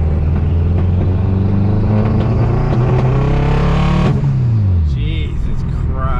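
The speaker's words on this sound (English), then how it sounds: "I can cruise and there's no misfire, and as soon as I step on the gas" A Honda Civic with a misfire problem, fitted with all-wheel drive, revs hard under throttle, its engine note climbing steadily and then dropping away as the revs fall, loud and close from inside the car.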